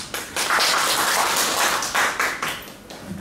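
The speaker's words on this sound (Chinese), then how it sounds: "我们一起鼓掌来欢迎他。" An audience at an academic lecture on Taiwanese Buddhism claps to welcome the speaker, with a dense burst of applause running for a few seconds in close, uneven waves.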